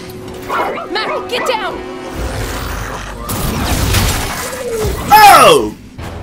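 Robot dog Mack barking in the Recore video game, several sharp yips and barks mixed with game effects and a player's talk, with a loud bark burst near the end.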